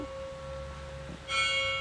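A church bell begins ringing at noon partway through in Mladá Boleslav, a bright sustained metallic tone over a steady hum of outdoor background noise.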